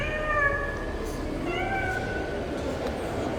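A cat meows twice in drawn-out, rising-and-falling calls over a steady background hum in an indoor cosplay contest setting.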